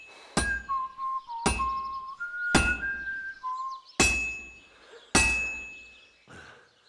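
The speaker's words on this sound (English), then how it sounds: "You've got to hammer the workpiece evenly" A hammer strikes a workpiece on an anvil in Kingdom Come: Deliverance 2, five loud ringing metallic clangs at a slow, uneven pace, each with a bright sustained ring and a whistling tone between blows.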